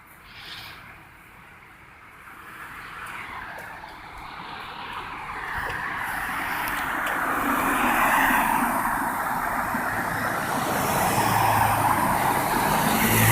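Cars pass one after another on a road near a sobriety checkpoint, their engine and tire noise rising and fading, building toward a louder, closer stream of traffic.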